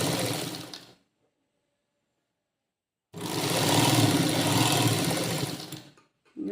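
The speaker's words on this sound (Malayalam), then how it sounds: "നമുക്ക് ഇവിടെ മാത്രം തയ്ക്കുന്നത് കാണിച്ചിട്ട് നിർത്താമെന്ന് വെച്ചാണ്" A sewing machine stitches fabric in two bursts, a short one and then a longer run of about three seconds, separated by silence, close and fairly loud with no talk.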